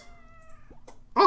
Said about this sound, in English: Oh, more cat.